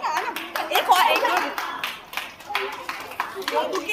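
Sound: people clapping hands

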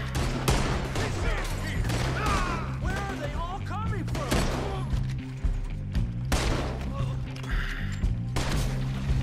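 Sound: gunfire in the video game Red Dead Redemption 2

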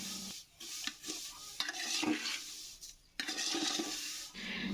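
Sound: vermicelli (semai) with raisins being fried and stirred

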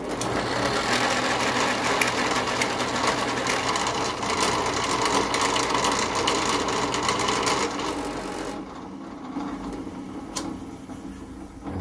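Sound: tool trimming brass tube

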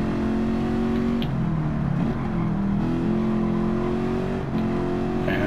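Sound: Ford Mustang Mach 1 engine in video game Gran Turismo

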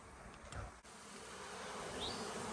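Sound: honey bees buzzing at hive

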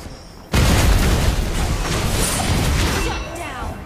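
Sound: turret being destroyed, explosion in the video game LING

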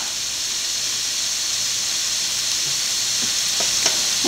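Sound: chili powder and crushed chili frying in a pan

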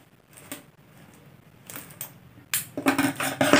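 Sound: cutting craft wire for a basket

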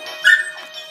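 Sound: dog barking and whimpering

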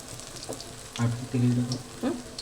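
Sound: frying raw banana fritters in oil

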